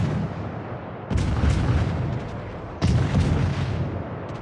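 Naval guns aboard the ship Friesland fire in a naval battle game, two heavy, loud booms about two seconds apart, each with a long rumbling roar that fades slowly.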